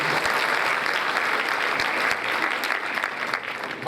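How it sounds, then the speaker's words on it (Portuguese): Steady, dense applause from a seated audience at a Brazilian family-prevention panel, filling the whole stretch at an even level with a slight swell near the end. "uma salva de palmas"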